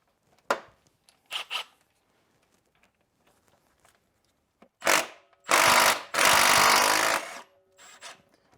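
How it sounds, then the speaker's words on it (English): An impact wrench hammering at an 18mm bolt on a Renault Clio 1.2 16v during a timing belt job, short rattling bursts followed by two longer loud buzzing runs, with quiet workshop gaps between. "anyone wanting to use an impact, this one hits at about a bit more than 300 Nm"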